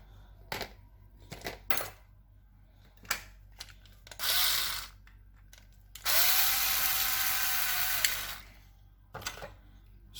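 Small bolts being unscrewed from a handheld walkie-talkie radio during repair, heard as a few short taps and clicks and then two separate sustained whirring bursts of an electric screwdriver, close by with no talking.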